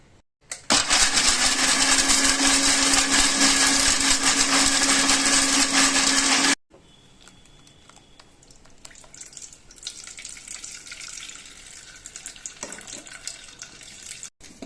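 A kitchen mixer grinds coconut with cardamom powder for coconut milk, a loud steady whir that runs for several seconds and then cuts off, leaving quieter rattling and handling sounds.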